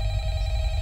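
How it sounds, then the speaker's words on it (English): A telephone rings in the horror video game Five Nights at Freddy's, a brief steady electronic bell tone, moderately loud and heard alone. "We're gonna get another phone call."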